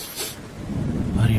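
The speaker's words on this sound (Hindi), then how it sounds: "बारिश और तूफान इतना तेज था कि उसमें लाडो का घोंसला जोर जोर से हिल रहा" A brief rumble of thunder rising in strength, with a wash of heavy rain noise, loud and close.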